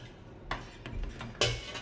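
Dried coconut being cut into small pieces while making poha chivda in a home kitchen, a few close, dull knocks and clatters spaced unevenly against a quiet background.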